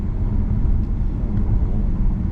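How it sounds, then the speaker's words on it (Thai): A BMW i7 eDrive50 M Sport electric sedan accelerates from 80 to 120 km/h at half throttle, heard as a steady, loud, low rumble of road and wind noise with no engine note. "ไปแล้ว 80ถึง120 นี่มาเร็วมาก กดไม่ได้เต็มคันเร่งนะครับ กดแค่แบบครึ่งครึ่งคันเร่งเท่านั้นครับ"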